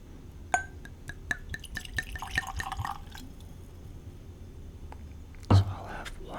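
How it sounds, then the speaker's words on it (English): Pike Creek 10 Year Old whiskey is poured into tasting glasses. Faint glass clinks and a thin liquid trickle come in a cluster, then a short pause and one louder knock or thump near the end, all quiet and close. "I'm gonna pour these out, and I'll let them air out"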